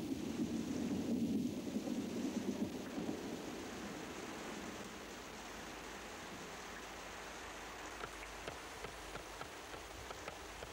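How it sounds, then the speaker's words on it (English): A tropical thunderstorm over rolling hills, with a deep rumble of thunder at the start fading into a steady, even hiss of heavy rain and scattered drips, with no voices. "the vapor condenses and a tropical storm breaks"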